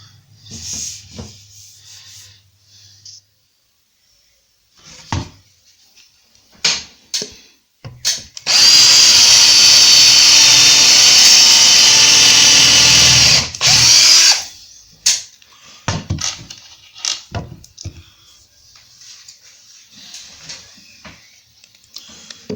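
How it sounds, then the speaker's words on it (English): A power drill drives screws into a kitchen cabinet during a kitchen fit-out. One loud, close whirring run lasts several seconds, surrounded by quieter knocks and handling noises. "I'm putting screws into the cabinet"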